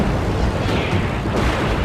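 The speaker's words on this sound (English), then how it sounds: "The enemy cruiser is firing shells out in front of the retreating planes" Shells fired by an enemy cruiser at sea explode in a dense, continuous rumble of booms, loud and close, with no clear breaks between blasts.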